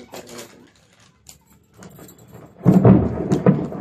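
Thunder in a village rainstorm with wind: scattered faint rumbles and crackles, then a louder, deep rolling rumble that swells near the end.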